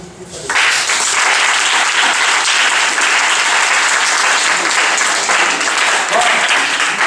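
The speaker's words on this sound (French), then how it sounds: "Je demande encore de l'applaudir." A large audience bursts into loud, sustained applause that starts abruptly and continues evenly for several seconds.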